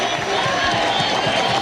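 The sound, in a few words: baseball stadium crowd cheering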